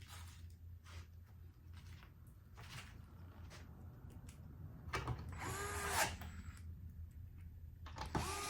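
A power tool drives fender bolts home on a Pint X electric skateboard, giving short whirring bursts with ratcheting clicks against a quiet background. The bursts come in two or three separate spurts, moderately close.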